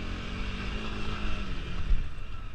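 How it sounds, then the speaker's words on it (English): A Honda CRF300L dual-sport motorcycle engine hums at moderate distance, its drone swelling slightly as the revs climb toward the end, fairly quiet and without speech. "I like revving this bike out a little bit."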